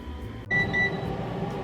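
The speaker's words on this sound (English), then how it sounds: "We are going to preheat the air fryer to 350." An air fryer beeps while being set to preheat to 350 degrees, giving a couple of short, clear electronic tones close by after a click, with a low appliance hum underneath.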